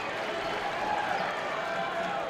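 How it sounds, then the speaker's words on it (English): A packed basketball arena crowd at the Ramsey Center during a Western Carolina versus Appalachian State men's game, reacting to a missed free throw with a steady, moderately distant roar of murmuring and scattered clapping. "Much to the crowd's displeasure, and what a crowd we have on hand here at the Ramsey Center today"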